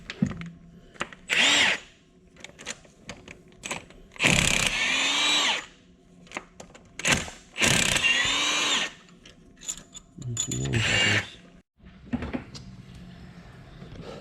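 Cylinder head bolts come out of a C5 Corvette engine with power tools: several loud whirring bursts of a few seconds each, broken by short clicks, metal clinks and quiet gaps, close by and without speech.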